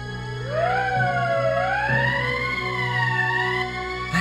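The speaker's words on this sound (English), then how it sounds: "That's the emergency siren." An emergency siren in the Valkyria Chronicles video game wails with rising and falling pitch sweeps over a low steady hum. It is moderately loud, continuous and heard alone without voices.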